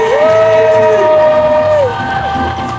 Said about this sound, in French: Est-ce qu'on peut acclamer le Seigneur Jésus?